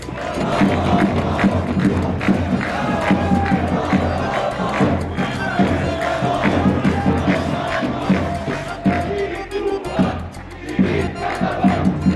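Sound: crowd cheering at a football match

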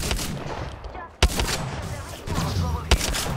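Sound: enemy gunfire in video game Apex Legends

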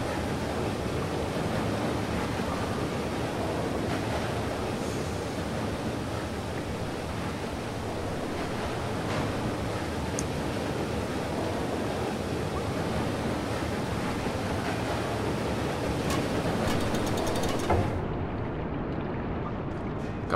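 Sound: water flowing in, from video game Limbo

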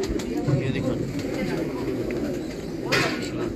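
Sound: champion pigeons cooing

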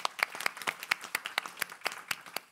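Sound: audience applause

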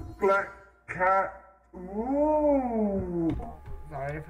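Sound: black cat pet meowing in Ghost Simulator video game

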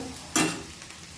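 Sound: onion sautéing in pan until golden brown

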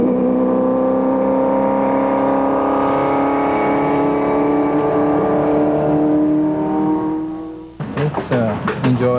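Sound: A.J. Foyt's race car testing at Indianapolis

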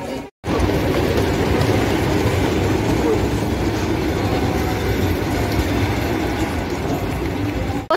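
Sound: train arriving at station

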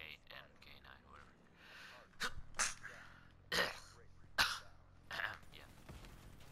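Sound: sneeze into microphone

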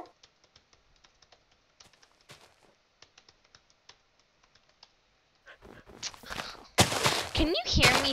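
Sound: typing on a computer keyboard

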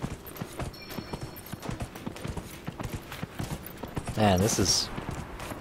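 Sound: horse galloping in video game Dragon Age: Inquisition

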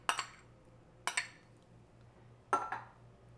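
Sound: ingredients added to a mixing bowl

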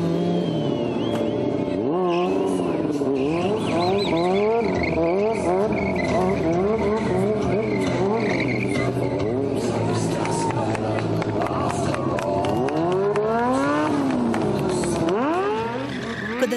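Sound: stunt motorcycles revving and skidding at moto parade

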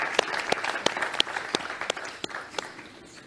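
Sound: audience applause for Costa Rican Red Cross official

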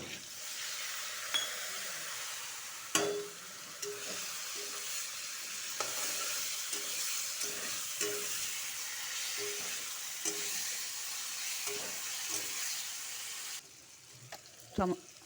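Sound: chopped tomato frying in a pan

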